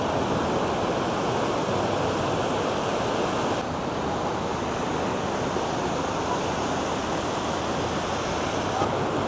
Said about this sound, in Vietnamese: Sóng biển hôm nay là bọt trắng xóa luôn nha.